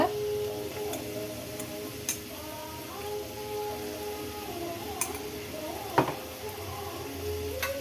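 Chopped chayote (chow chow) is stirred and mixed in a frying pan, with soft scraping and light clinks of a spoon against the pan over a faint background sizzle, including a few sharper taps.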